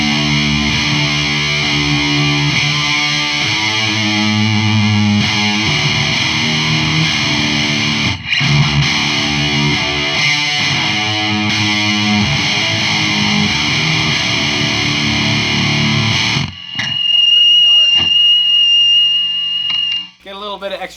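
Electric guitar played through a Randall Diavlo RD1H amp at full gain, loud saturated distorted chords and riffs ringing steadily, then a sustained high feedback-like tone and hum after the playing stops.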